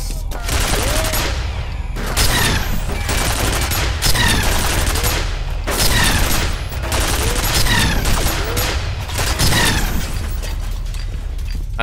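Heavy video-game gunfire from F.E.A.R. rains in at the player in repeated loud bursts, with rattling automatic shots, impacts and pops dense across the whole span and only brief lulls between volleys.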